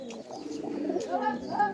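Pigeons coo softly in low, rolling, repeated calls, close by and fairly steady, with a few light chirps mixed in.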